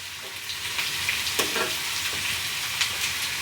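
Finely chopped garlic sizzles in a hot pan of vegetables, a steady close crackle with a few sharper pops and scrapes, no one speaking.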